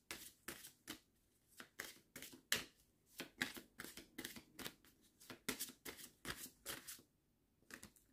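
Tarot cards riffled and shuffled by hand ahead of a card draw, a steady run of crisp papery bursts in close succession, with no voices.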